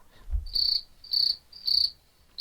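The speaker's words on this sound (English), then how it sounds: "Is there a button for crickets?" Cricket sound effect triggered from a button, three even bursts of shrill chirping in a steady rhythm, clear and close with nothing else behind it.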